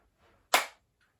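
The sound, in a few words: hand clapping during exercise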